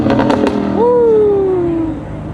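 A McLaren 720 and an Audi R8 rev at a midnight car meet, a loud engine burst that rises sharply then drops into a long falling exhaust tone, heard from nearby.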